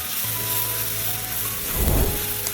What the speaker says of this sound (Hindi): फ्राई होना शुरू हो जाए तो हम इसमें जी आधा चम्मच अदरक और 1 चम्मच हम लहसुन इसमें शामिल करेंगे कूटा हुआ।